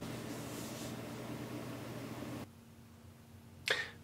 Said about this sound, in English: if we get another telemetry packet over here in sound modem, this program should be able to read that